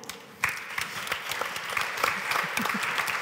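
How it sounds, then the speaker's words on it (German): An audience at a journalism media convention breaks into applause, a sudden burst of many hands clapping that continues steadily at moderate volume. "deswegen großen Applaus für Rebecca Ahlen."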